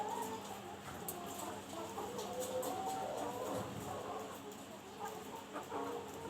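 Chickens, Thai native hens in a coop during cleaning and feeding, cluck and chatter continuously at close range, with overlapping calls and a soft background of scratching and movement, no clear speech.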